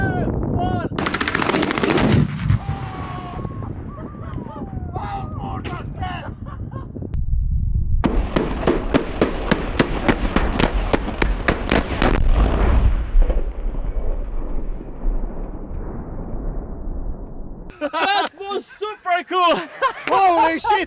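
A car is blown up with 70 detonators and detonating cord, making a rapid volley of sharp cracks that ends in a heavy blast and a long rumbling tail. Excited voices shout before and after.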